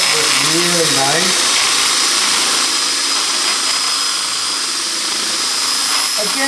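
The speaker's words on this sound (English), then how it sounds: "sandpaper's made to turn, straighten out a couple of the tool marks" A wooden platter spinning on a lathe while sandpaper is held against it, giving a loud, steady whirring hiss with the motor humming beneath and a brief pitch-sweeping whine near the start.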